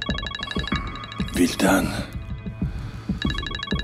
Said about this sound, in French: Ton téléphone.